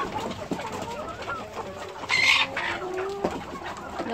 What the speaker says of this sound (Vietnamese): Đây là trang trại gà của em.